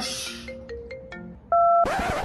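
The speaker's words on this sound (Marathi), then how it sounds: "एक मिनिट, फोन आलाय" A mobile phone rings with an incoming call, a brief electronic tone melody of several short notes followed by a louder sustained chime, with no speech over it.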